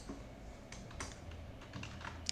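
Soft, quiet keystrokes on a computer keyboard while text is entered into a Shopify store theme editor, a few scattered clicks over a low background hum with no voices.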